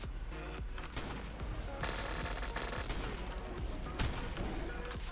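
Dense, rapid bursts of automatic gunfire rattle almost nonstop in the game ARK, loud and close, with a few sharper single shots standing out.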